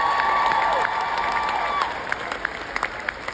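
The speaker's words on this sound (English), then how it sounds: "let's give them a big round of applause" Convention crowd at a Scentsy family reunion event breaking into applause and cheers, a steady wash of clapping with a brief whistle early on, then thinning into scattered claps and shouts toward the end.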